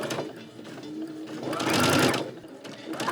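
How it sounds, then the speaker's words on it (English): A sewing machine stitches a rolled hem with a rolled hem foot, a close mechanical whirring run that speeds up and swells in the middle before easing off, with no talking. "I am currently doing a rolled hem on my sewing machine with a rolled hem foot."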